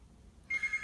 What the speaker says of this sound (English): the phone here is ringing